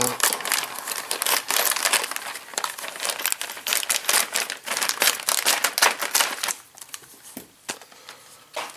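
Plastic packaging for Eaglemoss Ecto-1 1/8 scale model kit parts is crinkled and torn open up close, a busy run of sharp crackles that thins out toward the end, with someone speaking intermittently.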